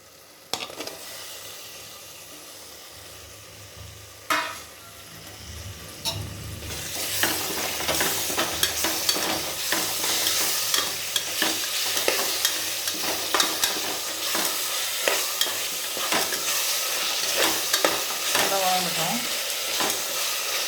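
Tomatoes frying with ginger garlic paste for mutton biryani, a steady close sizzle that swells after a quiet start, with repeated scraping stirs and occasional clinks.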